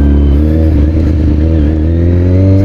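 A 2003 Kawasaki ZX-6R fitted with a MotoGP exhaust holds a loud, close, steady engine drone with a rough, throaty edge, running without speech.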